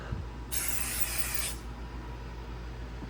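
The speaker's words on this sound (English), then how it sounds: "I'm going to spray this one out really good" One steady aerosol hiss of smoke detector test spray lasting about a second, close and bright, over a low background hum.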